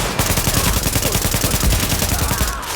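Rapid automatic gunfire from the video game Tom Clancy's The Division, loud, dense bursts running continuously close up with no pauses.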